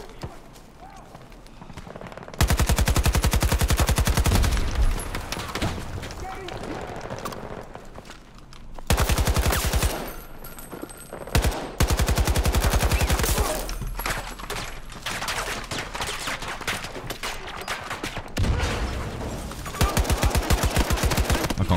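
AK rifle firing in short tap-fire bursts during a Battlefield 2042 match, loud, close repeated gunshots in clustered groups with other game sounds between them.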